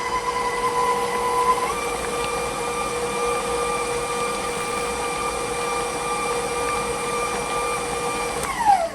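An electric mixer whips red velvet cheesecake batter of cream cheese, cornstarch, whole eggs, cream and half and half, giving a steady, close motor whine with a sustained tone that shifts pitch briefly near the end, with no talking.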